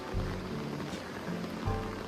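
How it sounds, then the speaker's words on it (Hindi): Steady rain falls around the stone steps of Garjiya temple in Ramnagar, a soft, even hiss with faint pattering drops, fairly quiet and close, with no talking. "अभी बारिश हो रही है ना, तो ध्यान से चलना पड़ेगा।"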